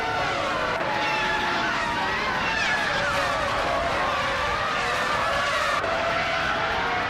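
A Prost P01 race car in an AI racing game drives with a loud continuous engine whine rising and falling through gear changes, mixed with tyre squeal and skidding, close and steady throughout.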